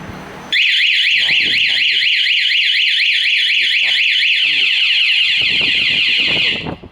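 Anti-theft alarm on a Honda MSX125 motorcycle blares a loud, continuous warbling siren that rises and falls rapidly, starting abruptly and sounding steadily throughout while someone talks faintly underneath.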